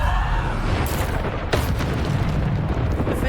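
Bombarda explosion spell in the video game Hogwarts Legacy, a heavy booming blast over constant rumbling battle noise, with a sharp burst near the middle, loud and close.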